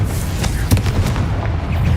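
A Confringo fire spell bursts in the Hogwarts Legacy video game, a dense run of booming, crackling blasts with a sharp peak near the middle, loud and close over a continuous low rumble.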